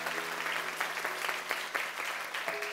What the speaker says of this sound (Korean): 다시 한번 격려와 사랑과 후원의 박수를 보내주시겠습니까?